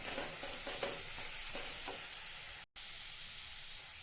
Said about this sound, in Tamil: நல்லா இப்படி வதக்கி விட்டுக்கிட்டே இருக்கலாம்.